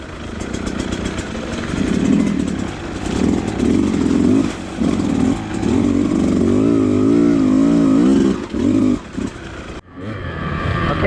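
A 2020 KTM 150 XC-W TPI fuel-injected two-stroke dirt bike rides close and loud, its raspy engine revving up and down steadily before cutting out near the end.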